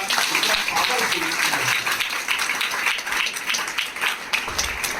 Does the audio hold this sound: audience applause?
yes